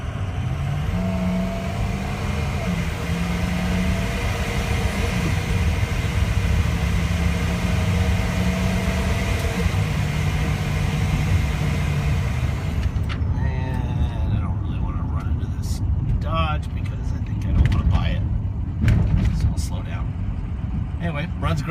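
A 2004 Ford F350 diesel truck engine idles steadily nearby with a constant rumble and clatter, joined later by some knocks and handling noises.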